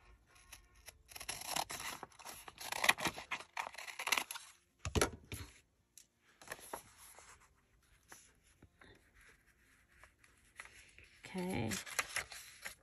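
Scissors trimming the top white strip off a paper envelope, close and fairly quiet, with soft crisp snips and paper rustling in irregular bursts and a brief louder crinkle near the end.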